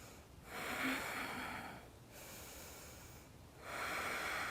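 Deep breathing during a yoga flow, slow nasal inhales and exhales, two long breath cycles heard close and quiet with a brief pause between them.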